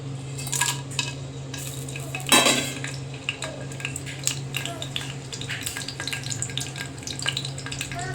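Whole spices sizzle in 5 to 6 spoons of hot oil for a tempering for chicken palav, a steady close crackle with clinks of a spoon against the pan and a sharp clatter partway through.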